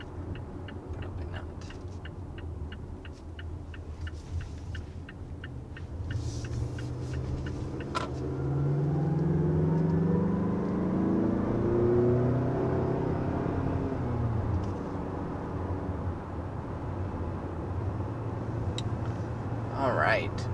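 Steady road and engine hum from inside a Mazda luxury-trim car cruising at about 55 mph, a continuous low rumble that swells and rises slightly midway, with faint ticking on top.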